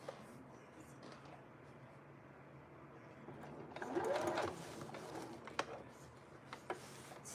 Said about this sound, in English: I am right now sewing this piping onto the sleeve, really the armhole right now